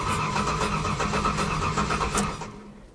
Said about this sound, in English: I don't know why it's not starting.